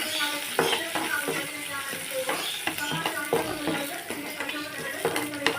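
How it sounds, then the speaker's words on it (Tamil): Curry leaves, green chilies and onion stir-fried in a pan, a continuous sizzle broken by repeated close scraping strokes of a spatula, with no one talking. "அதோட கருவேப்பிலை, பச்சை மிளகாய் போட்டாச்சு. போட்டு ஒரு சொய் கிண்டிக்கலாம்."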